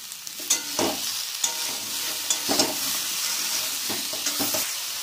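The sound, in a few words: cauliflower frying in a pan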